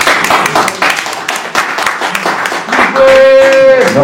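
Audience applause at a Paris press conference for Werrason, a dense patter of clapping running for several seconds with voices mixed in, ending in a sustained tone.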